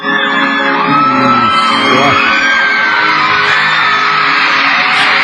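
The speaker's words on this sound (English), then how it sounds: "for an hour and a quarter they screamed their little lungs out" Young fans at a concert scream nonstop, a dense, loud wall of high-pitched shrieks and whoops from a large crowd filling the whole stretch without pause.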